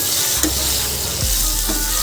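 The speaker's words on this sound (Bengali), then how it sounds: "এবার এটাকে ভালো করে একটু নেড়ে চেড়ে নেবো।" Boiled green mango with salt and turmeric fries in a pan with a loud, close crackling sizzle and scraping stirs throughout, with no talk.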